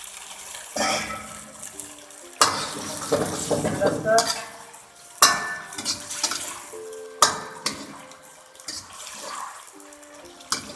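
Cooked shrimps tossed in a pan of cornstarch-thickened sauce for a Chinese dish, several distinct bursts of stirring and scraping against the pan with wet clatter, separated by short pauses.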